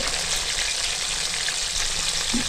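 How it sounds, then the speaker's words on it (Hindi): Chicken fries on a slow flame, a steady, even sizzle of oil that holds at a moderate level without break, close to the pan and with no talk. "अब हम मज़ीद इसको हम 7 से 8 मिनट इसको फ्राई करेंगे,"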